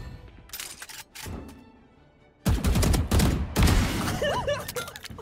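Gunfire in a first-person shooter game: a few sharp shot bursts early on, then a loud, dense volley of rapid shots and clattering impacts from about halfway through.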